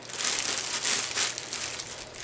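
Crinkly plastic bag holding Disney Pinocchio jigsaw puzzle pieces, rustled continuously at close range with steady, bright crackling and no talking.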